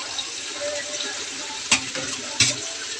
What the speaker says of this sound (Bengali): এই যে কুদরি আলুটা কেটেছিলাম এটা ভেজে দিচ্ছি